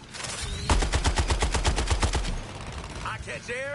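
Rapid automatic gunfire in the Suicide Squad: Kill the Justice League game: a close, loud burst of evenly spaced shots lasting about two seconds, followed by whooshing game effects and electronic chirps.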